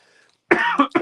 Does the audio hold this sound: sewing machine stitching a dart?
no